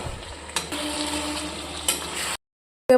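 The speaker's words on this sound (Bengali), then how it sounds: "গরম মশলাটা দিয়ে ভালো করে নেড়ে নেবো" Chicken with garam masala being stirred in a hot pan, a steady frying sizzle with scraping spoon strokes, close and fairly loud, cutting off abruptly near the end.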